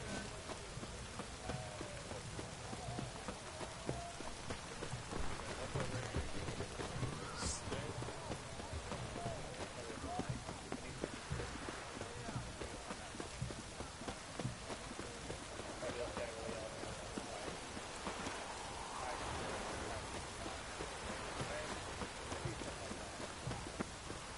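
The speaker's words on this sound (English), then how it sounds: "It's raining, of course it's going to be damp." Rain falling at night in a video game, a steady soft hiss of drops across the whole stretch, faint and continuous with small scattered taps and no talk.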